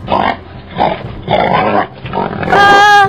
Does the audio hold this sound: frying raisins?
no